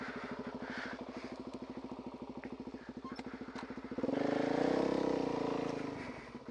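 A motorcycle engine idles with a rapid pulsing thump, then revs up louder around the shift into first gear before settling back, heard close with no talking.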